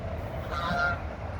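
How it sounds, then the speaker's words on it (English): A few faint honks from geese sound in the distance over steady outdoor rumble, heard from a boat on the water. "Geese are coming back around."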